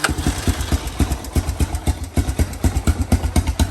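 A Honda 250SX 250cc engine, geared differently from a Big Red, catches and settles into a loud, close, steady rhythmic thumping run with regular firing pulses throughout.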